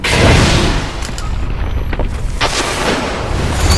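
A rocket explodes in Destiny's Trials of Osiris game mode, a loud booming blast with a rumbling roar that stays dense and loud through the moment.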